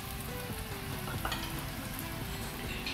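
Padang-style dishes frying in a home kitchen, a steady dense sizzle running throughout at moderate level with faint clinks, no voices.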